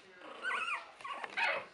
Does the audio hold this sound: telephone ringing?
no